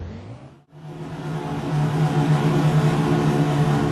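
Race cars in a video game pull away at the start of a Miami Grand Prix sprint race: a near-silent gap, then a swelling, sustained engine drone as the cars accelerate together, steady and fairly loud.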